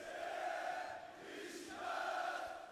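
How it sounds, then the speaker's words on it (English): Basketball crowd in full voice at a Besiktas versus Partizan game, a steady wall of cheering and chanting that dips briefly mid-way before swelling back up, loud and continuous throughout. "crowd back on their feet and in excellent voice"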